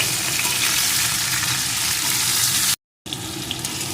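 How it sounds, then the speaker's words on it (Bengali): Tomato pieces frying with eggplant in a pan give a loud, steady sizzle, cut by a brief silent gap before the frying resumes. "টমেটোটাও বেগুনের সাথে একটু ভেজে নেব"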